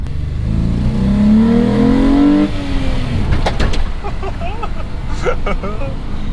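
A VR6-swapped Mk2 Golf engine revs hard and close, its pitch climbing through a sustained run before dropping off, followed by excited voices talking over the idle.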